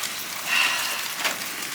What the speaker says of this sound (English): Rain started up again.